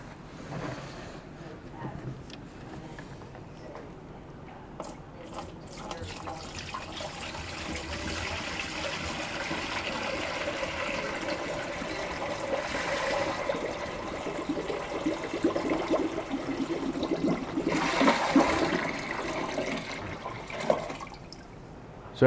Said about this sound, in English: So take our cold water and dump it in both sides.